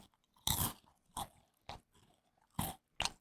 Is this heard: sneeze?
no